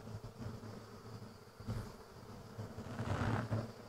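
Honey bees in a well-populated apiary hive, including bees beyond the divider board, hum in a dense, steady buzz that swells and falls a little, with no talk.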